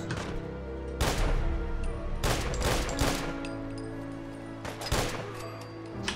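Gunfire in Fallout 4 while shooting at trappers: several loud, sharp shots and bursts spaced over the span, cracking over a constant low game soundscape.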